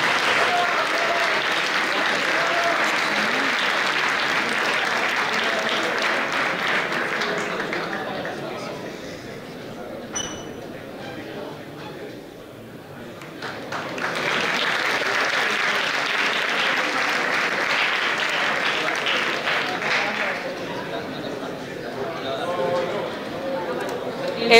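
Sustained crowd applause at an award ceremony gala for a campus festival in Alcoi, loud and continuous for about ten seconds, dipping briefly, then swelling again into a second long burst of clapping with some crowd chatter.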